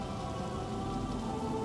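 Steady rain falls in the video game Metroid Prime Remastered, a dense, even hiss of drops hitting surfaces, continuous and moderately loud without pauses.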